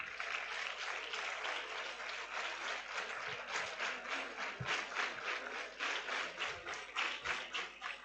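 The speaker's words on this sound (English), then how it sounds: "Give a big round of applause for Cadet Ritika" Sustained applause from an audience at a school founders day celebration, many hands clapping in a dense, steady patter that swells slightly toward the end.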